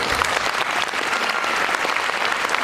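Parents clap louder for small children at a school class presentation, a dense, even burst of applause lasting under three seconds.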